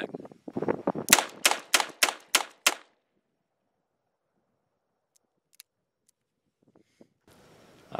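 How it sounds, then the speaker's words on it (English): A Chiappa Rhino .357 Magnum revolver fires about six sharp, loud shots in a quick, even sequence outdoors. Near silence follows, with a few faint ticks and a burst of rustling at the end. "So yeah, that's 38 Special. Let's give you a look at the 357 mag."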